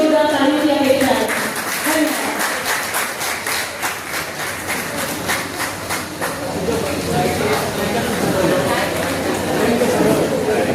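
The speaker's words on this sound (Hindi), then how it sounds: "आप सभी से जोरदार तालियों की अपेक्षा है" Dense, steady applause fills an auditorium at a teacher felicitation ceremony marking a silver jubilee, with rhythmic clapping continuing throughout and a voice speaking over the crowd.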